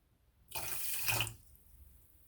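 Water pours from a tap into a pot for stovetop basmati rice, a brief steady splashing stream lasting about a second before stopping, fairly quiet and close.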